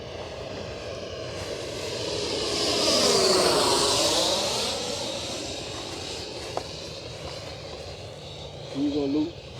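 A Freewing de Havilland DH-112 Venom RC model jet in Swiss red livery flies past, its ducted-fan whine rising to a peak and then fading with a pitch sweep, followed by a brief faint voice near the end.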